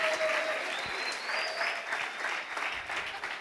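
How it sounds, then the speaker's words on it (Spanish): A church congregation applauds in steady, dense clapping that continues evenly throughout, close and without pauses. "Démosle un aplauso a Sebastián"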